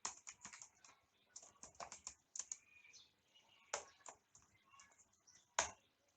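Quick, uneven bursts of key clicks from someone typing code on a computer keyboard, with a few sharper, louder strokes standing out. Nearby and fairly quiet, with no talking.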